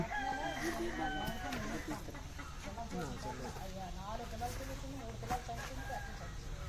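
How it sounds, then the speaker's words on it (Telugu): Hens cluck continuously while a rooster crows nearby on a farm near Bheemili, over a busy, noisy yard background with voices mixed in. "ఇక్కడ కోళ్ళు పెంచుకుంటున్నారండి"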